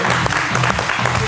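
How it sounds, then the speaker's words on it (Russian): A stand-up comedy show audience applauds from the stage area, a dense, steady wash of clapping that stays loud and close for the whole short moment. "И аплодисменты."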